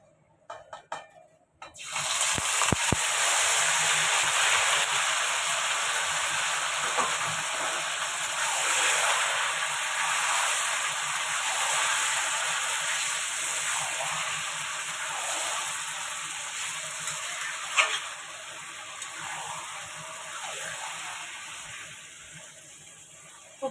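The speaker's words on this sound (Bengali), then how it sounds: "তেলটা আমার গরম হয়ে গেছে। এই যে মাখানো চিকেনটা" Marinated chicken hits hot oil after a quiet moment and sets off a sudden, loud, hissing sizzle. The frying stays steady and close, easing slightly over time with a few faint clinks. No voices are heard.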